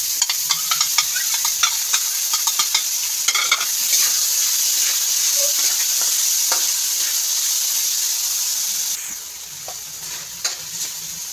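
Ground meat sizzles and crackles in a hot pan for spaghetti, a steady close frying hiss with stirring scrapes and sputters that ease off near the end.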